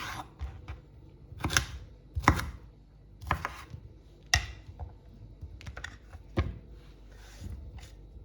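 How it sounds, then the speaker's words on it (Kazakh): A knife chops bell pepper into squares on a cutting board, giving sharp, separate knocks at an uneven, unhurried rhythm, close and clear against a quiet kitchen. "Олда да 4 бұрышты қып турайым осылай."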